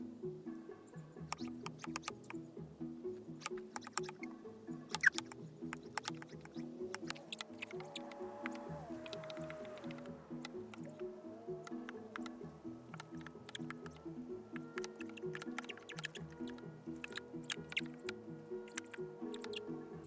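Water splashes and drips steadily over a stone headstone during rinsing, a continuous wet trickle with scattered droplet ticks, moderately close and alone without talk.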